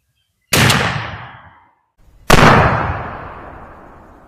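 Two loud, close blasts from a 12 gauge shotgun firing Remington 3.5 inch turkey loads with No. 6 shot, each a sharp crack followed by a long decaying outdoor echo, about two seconds apart.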